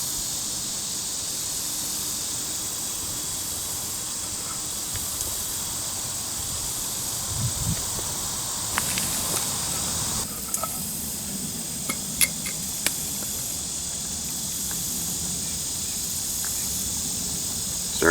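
Water heats in a camp cook pot and nears a boil, giving a steady, close hiss with a few faint ticks and soft bubbling pops on top.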